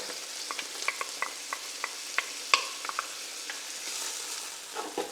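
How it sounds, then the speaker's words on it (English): Bacon and garlic fry in a pan, giving a soft sizzle with a quick series of light scrapes and taps as the mixture is stirred, close and moderately quiet, with no voices. "Fry that up for a minute. Mix it all around."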